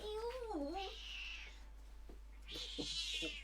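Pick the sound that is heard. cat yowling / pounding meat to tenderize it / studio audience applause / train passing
cat yowling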